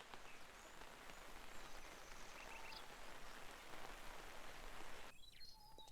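Plants being watered in Lumberjack's Dynasty: a steady, soft splashing patter of water pouring onto soil lasts about five seconds, then stops, leaving light birdsong.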